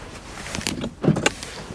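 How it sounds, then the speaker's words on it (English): Electric front window motors on a Volkswagen Golf Mk5 whirring in short bursts, interrupted by a few sharp clicks and thuds, close by and moderately loud, with no talking. "electric windows on the front,"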